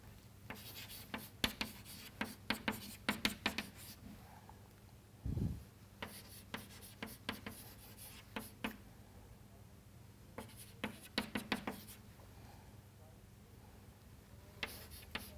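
Pen or marker strokes write out Gaussian elimination equations on a board during a lecture, with rapid scratchy taps in bursts separated by pauses and one brief thud midway, close and fairly clear.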